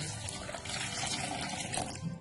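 A glass of water pours into a sherbet mixture of phalsa berries, sugar, black salt and white salt, a steady close splashing gush that carries on without a break and has no talk over it.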